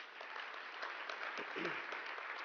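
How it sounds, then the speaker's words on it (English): Dense applause fills a banquet hall at a space awards gala, a steady wash of many hands clapping with no break, while a faint voice passes briefly underneath. "Give him another round of applause for that."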